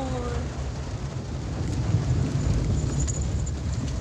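Rain falling outdoors, a soft continuous hiss with a low rumbling wash beneath it and faint background voices early on.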